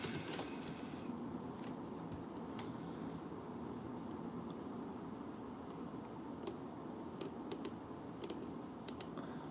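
A computer keyboard being typed on in scattered, irregular clicks and short flurries over a low steady background hum, fairly quiet and close, with no voices.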